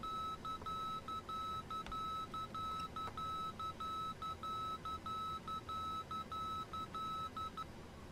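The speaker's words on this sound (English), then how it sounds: "That's actually a really different beep." A Boeing 737 cockpit warning in a PMDG flight simulator game beeps in a fast, steady repeating pattern of short electronic tones, faint and alone.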